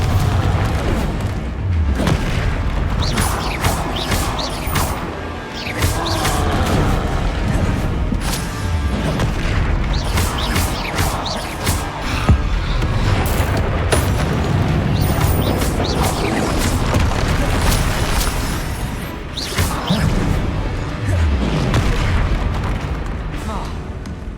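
Confringo blasting spell explosions in a video game: repeated loud, deep booms and crashing bursts fill the scene, with a voice speaking intermittently over the heavy rumble.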